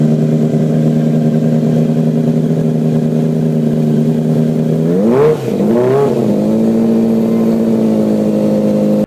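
A V8 motorcycle engine idles with a steady, smooth hum, then revs sharply twice in quick succession before settling back to idle.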